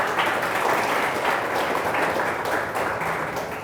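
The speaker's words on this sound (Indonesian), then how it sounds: "Boleh tepuk tangan teman-teman." University students applauding together, a dense, even wash of many hands clapping at once that holds steady from start to finish with no talk over it.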